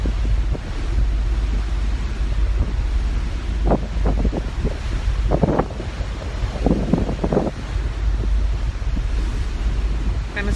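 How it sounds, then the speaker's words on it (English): Strong ocean wind buffets the microphone in a continuous low roar, with surf washing underneath and a few brighter gusts and splashes rising through the steady rumble. "And it's really windy."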